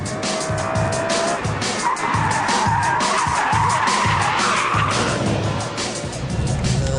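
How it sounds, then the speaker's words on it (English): A BMW M3 CSL oversteers around a race track, its tyres skidding and squealing steadily over a loud, continuous engine roar that lasts throughout. "For the BMW with that sort of power, there's always a little bit of oversteer."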